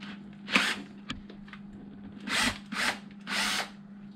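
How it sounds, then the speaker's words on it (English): A power drill unscrews a screw on an Arrma RC car in several short, loud whirring bursts separated by pauses, over a steady low hum, with no talking. "You gotta hold it like this and unscrew it."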